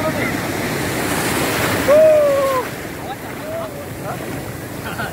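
Ocean surf rolls and washes steadily onto a beach where people practise surfing for the first time, a loud broadband roar with wind buffeting the microphone and a brief whistle-like tone partway through.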